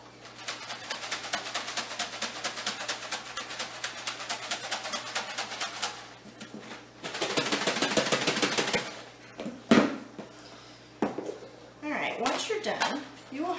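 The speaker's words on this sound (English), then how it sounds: "Then we're going to pop on our lid and we're going to shake it really good." Shredded coconut with pink dye, shaken hard in a lidded container, makes a fast rhythmic rattle in two long bursts with a short pause between, then scattered knocks and softer handling noises at the end.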